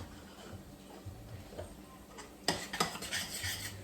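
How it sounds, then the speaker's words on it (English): A flour mixture for beef pot pie being stirred in a pot, quiet clinks and scrapes that grow louder and busier toward the end. "I'm stirring it constantly until it's thick and kind of bubbly"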